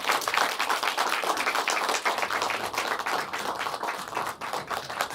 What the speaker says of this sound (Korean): 좀 박수를 좀 부탁드리겠습니다.